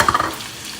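Carrots tossed into a hot pan for a chicken and cashew dish, a quick scraping stir with sizzling bursts up front, then a softer continuous fry settling under it, close and unvoiced.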